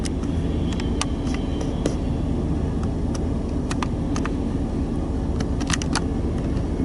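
A BNSF freight train rolls past on the western side of Fremont, Nebraska, with a GATX Air Slide covered hopper as the rear buffer car, giving a loud, steady rumble of wheels on rail with scattered sharp clanks and squeals close by.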